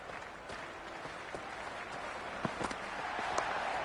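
A crowd at a T10 cricket match between India and South Africa applauds steadily, a broad wash of clapping that swells gradually with a few sharper claps standing out, heard from a distance.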